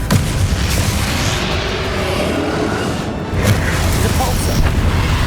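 A Confringo spell explosion in the Hogwarts Legacy video game, heard as a dense, loud burst of blast noise and rumbling debris that carries on for several seconds, with a brief dip partway through before another surge.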